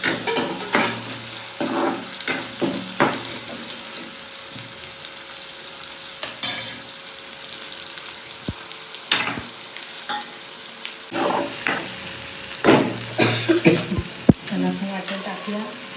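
Tomatoes fry and get stirred in a pan while mutton paya curry is being made, with steady close sizzling broken by repeated scraping stir strokes throughout.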